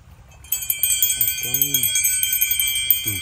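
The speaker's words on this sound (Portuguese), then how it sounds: "Um sino." A small bell from a pirate treasure find on an island, shaken repeatedly so it rings in a quick, bright, sustained jingle up close, with a voice briefly speaking over it.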